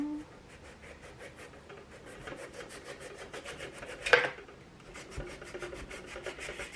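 Repeated soft scraping strokes of a knife through radish on a cutting board, steady rhythm, with one sharper knock near the middle.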